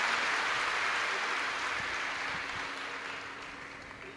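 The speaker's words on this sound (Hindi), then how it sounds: "एक बार यजमान परिवार के लिए जोरदार ताली बजाकर स्वागत" Gathered listeners at a live Shiv Mahapuran katha clap for the host family, a broad, fairly faint wash of applause that slowly fades over a few seconds.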